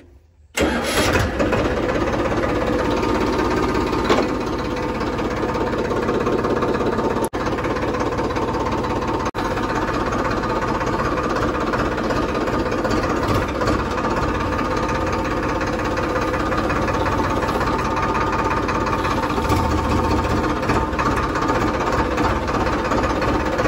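A tractor engine runs steadily and loudly while hauling a chain-type paddy harvesting machine, giving a continuous close rumble throughout with no pauses.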